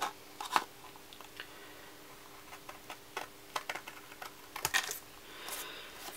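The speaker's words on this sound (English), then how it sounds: "So all we're going to do is just take a pair of scissors." Scissors snip through a paper card in quick, quiet, irregular cuts, each a short crisp crunch close by, with small pauses between strokes.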